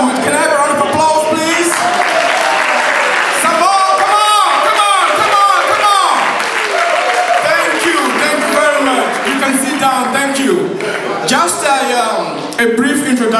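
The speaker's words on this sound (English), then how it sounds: "Can I have a round of applause, please?" An audience at a foundation evening event applauds and cheers steadily throughout, with whoops and laughter mixed into a dense, loud crowd roar.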